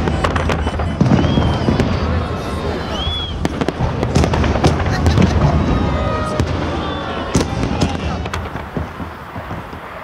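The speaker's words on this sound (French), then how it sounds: "Cette journée singulière se termine par un immense feu d'artifice dans le ciel de Saint-Pétersbourg." A huge fireworks display bursts over Saint Petersburg, with dense repeated booms, crackles and whistling rockets overlapping continuously at a loud distance, with voices in the crowd beneath.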